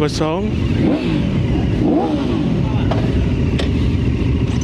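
A Benda Chinchilla 350 cruiser motorcycle with a CVT automatic gearbox revs up and down in several swells, its pitch rising and falling, with people talking nearby.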